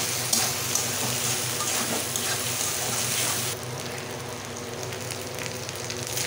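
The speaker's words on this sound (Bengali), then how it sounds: "আদা রসুনটা একটু ভালো করে ভেজে নেব, যতক্ষণ না কাঁচা গন্ধ বেরিয়ে না যাচ্ছে ততক্ষণ একটু ভেজে নেব।" Ginger and garlic paste sizzles steadily in a pan as part of a Bengali prawn pulao, a continuous close hiss that drops slightly partway through, with no talking.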